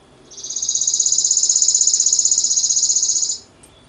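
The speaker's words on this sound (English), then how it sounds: "Chipping sparrow. Sounds like it's chipping, doesn't it? A chipping sound. Very staccato, rhythmical." A chipping sparrow sings a single dry, rapid trill of staccato chips at an even rhythm, lasting about three seconds, clear and close against a quiet background.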